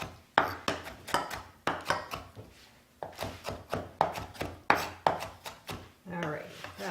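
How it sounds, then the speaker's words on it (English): Repeated knife chops on a cutting board as tomato is diced alongside onion for a healthy meal, about ten sharp, evenly spaced strikes, close and fairly loud, with no talking. "I'm going to cut a few more in here real quick because it looks like I have a little too much tomato for onion"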